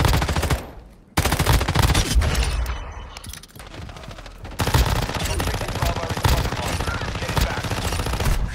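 Rapid automatic gunfire from a weapon in Warzone Mobile, loud sustained bursts with a brief pause, then continuous fire, dense and close with crashing impacts.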